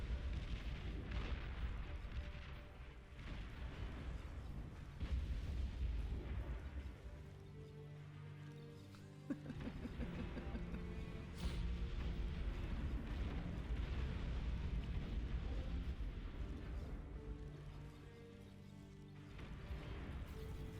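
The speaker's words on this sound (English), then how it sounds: "they keep rebuilding right here over and over and over, and then it keeps getting destroyed by his Berthas" Repeated heavy Bertha long-range artillery impacts in the strategy game Beyond All Reason, a dense rolling wall of low booms and crashes that keeps going with brief dips, loud and continuous throughout.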